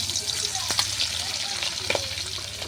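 Hilsa fish pieces fry in very hot oil in a wok, a continuous close crackling sizzle with a couple of brief clinks from a utensil, and no voices.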